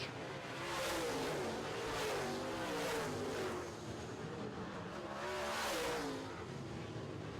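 Late model race cars roar past on a track during a feature race, engines rising and falling in loud repeated waves as the pack circulates, with the pitch sweeping as cars go by.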